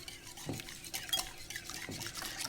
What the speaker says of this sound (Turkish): İyice karıştırdım.